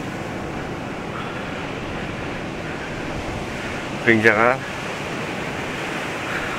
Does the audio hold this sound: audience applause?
no